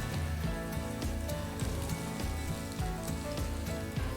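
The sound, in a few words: tomatoes sizzling in a pan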